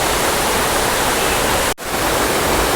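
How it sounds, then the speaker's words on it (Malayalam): Ezharakund waterfall in Kannur, Kerala roars as a dense, constant wash of falling water, loud and close, broken only by a momentary dropout near the end. "പക്ഷെ അതിനേക്കാൾ തന്നെ വളരെ വേറെ ലെവൽ എന്ന് തന്നെ പറയാം ഈ ഒരു വെള്ളച്ചാട്ടം"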